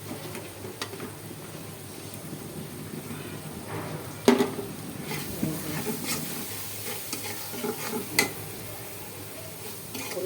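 Cumin paste and spices stir-fried in a pan for a meat curry, a steady close sizzle with scraping spoon strokes and a few sharper clinks against the metal, no talking.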